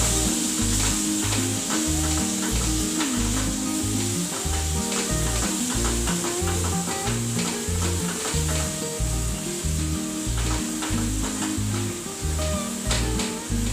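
Lemon juice is stirred into a sizzling batata vada mixture in a pan, giving a steady close frying sizzle with repeated scraping strokes of the spoon.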